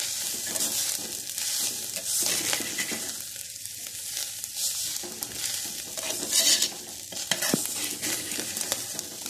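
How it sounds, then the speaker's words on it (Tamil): A spoon stirs rice and onions in a pot, giving a close, continuous sizzle with scraping and clinking against the metal, uneven stirring bursts throughout and no voices. "இப்போ நம்ம அந்த ஆனியன்ஸ் எல்லாத்தையும் ரைஸ் கூட நல்லா மிக்ஸ் பண்ணிடலாம்."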